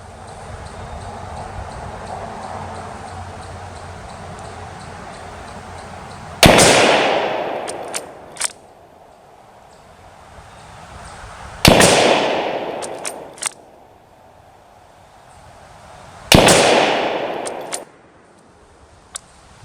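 Kar98k German Mauser bolt-action rifle fired outdoors three times, each loud sharp blast followed by a decaying echo and a few metallic clicks of the bolt being cycled, with quiet gaps between shots.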